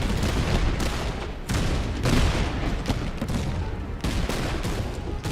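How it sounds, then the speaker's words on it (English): Musket volleys and grenade blasts in the Master of Command battle game, a dense continuous crackle of massed gunfire with booming explosions layered throughout, loud and unbroken. "We're gonna take one more volley, but the grenades will compensate."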